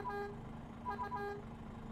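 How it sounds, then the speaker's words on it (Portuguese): A truck horn gives a few short, faint toots at a gate, with the vehicle's engine idling steadily underneath and no talking. "aqui é só dar uma buzinadinha"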